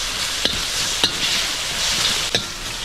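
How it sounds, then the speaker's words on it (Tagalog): Kamansi (breadnut) sautéing in a pan, giving a steady close sizzle with a few sharp stirring clacks of a utensil against the pan. "Igisa lang muna natin to."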